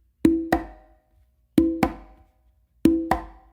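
Conga tumbao exercise with open tones, a ghost note and a slap, played as three sharp pairs of hand strikes with resonant ringing tones and gaps between each pair.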